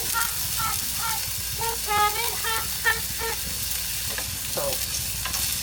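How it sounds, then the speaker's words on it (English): Steady sizzling hiss of frozen peppers frying in hot oil, with scattered clinks and scrapes of a utensil stirring in the pan. "Y'all hear the sizzle? That means it's cooking."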